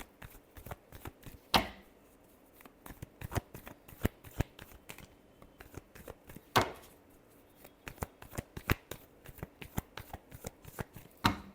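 Tarot cards being shuffled by hand in repeated quick riffles and cuts, crisp papery slaps and flutters coming in bursts, with two louder snaps standing out; close and fairly quiet, with no talking.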